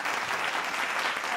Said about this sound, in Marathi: झटकन जोरदार टाळ्या मंडळी.